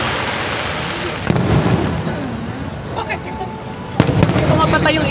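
Fireworks bursting at a special pyro exhibition staged by Platinum Fireworks Inc., with sharp loud bangs at about 1.3 s and 4 s over a steady rumble of distant crackling explosions and crowd noise.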